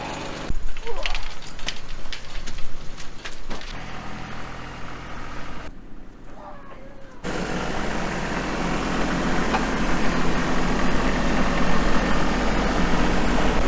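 A T6 tractor engine runs steadily near a hay wagon and elevator during December hay unloading, a loud continuous low rumble that holds through the clip, briefly dipping midway before returning fuller.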